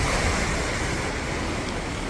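Strong floodwater of the Manimala river in Kerala rushing past in a steady, broadband roar, with wind buffeting the microphone and no voices.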